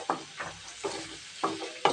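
Onions, green chilies and spices such as five-spice, turmeric and cumin fry in oil, with several rhythmic stirring scrapes over a continuous close sizzle.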